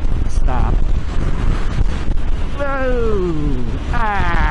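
Wind buffets a rider on a Suzuki C50T motorcycle, a constant loud low roar against the microphone, while a voice exclaims and shouts over it in bursts.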